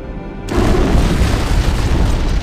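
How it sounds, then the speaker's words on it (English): A loud antimatter charge explosion aboard a ship in the Halo PC game, a sudden booming blast that follows a quiet moment and then rumbles on as a sustained, heavy roar. "I'd guess an antimatter charge."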